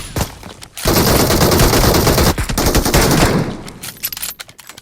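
Loud, close automatic gunfire from the video game PUBG: a sustained rapid burst of shots lasting a couple of seconds, then a shorter second burst and trailing scattered shots.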